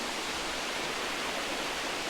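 Waterfall at Holden Clough, a steady broadband rush of falling water, close and fairly loud, continuous without variation and with no voices.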